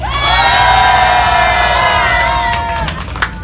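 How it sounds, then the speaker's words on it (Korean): A large outdoor rally crowd in front of the Seoul courthouse cheers and shouts in a loud, sustained roar that swells, then tapers off, with scattered claps and whoops near the end. "다시 한번 뜨거운 박수 부탁드립니다"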